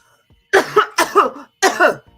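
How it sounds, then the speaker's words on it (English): Three loud, forceful coughs, each harsh and throaty, the second and third coming in double bursts, close up with no other sound. "You're going to do a forcefully cough."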